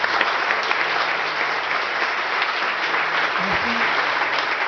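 A church congregation applauds and acclaims the name of the Lord, with dense, steady clapping filling the room throughout and a few voices calling out beneath it.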